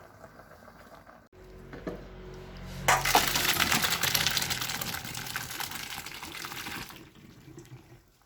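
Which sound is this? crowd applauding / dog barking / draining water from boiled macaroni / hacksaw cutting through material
draining water from boiled macaroni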